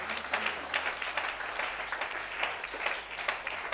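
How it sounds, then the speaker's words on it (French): A church congregation applauding an apostle during a Sunday service, a steady patter of clapping from a crowd, moderately loud and continuous. "Donc une main d'acclamation pour notre apôtre"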